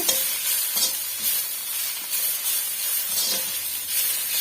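Mint leaves sautéing in a pan for chicken gravy, a continuous close hiss and sizzle with scraping stirs and light spatula taps throughout, no voices.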